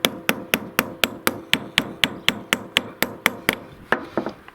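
Steady hammer blows pinning over the end of a galvanised chain, about fifteen sharp metallic strikes at a quick even pace, each ringing briefly, loud and close with no talking.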